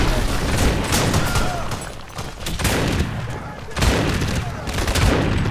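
A pistol fires repeatedly in the game Crysis, sharp loud shots in irregular clusters over battle ambience, with a voice speaking in between.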